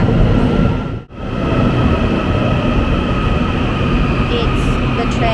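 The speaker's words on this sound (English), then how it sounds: "It's the train going to Taoyuan." A Taiwanese commuter train bound for Taoyuan rumbles loudly and steadily at a station platform in Taichung, with a dense, continuous roar that briefly dips then holds.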